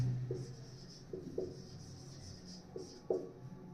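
Handwriting during an English grammar lesson: short scratchy pen strokes come in faint, irregular bursts against a quiet room.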